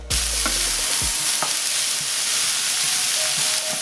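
Vegetables fry in a pan with a constant loud sizzle, broken by occasional scraping stirs and light clinks.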